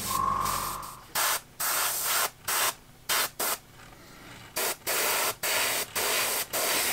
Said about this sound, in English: the airbrush that might kick in so uh, might be a little bit noisy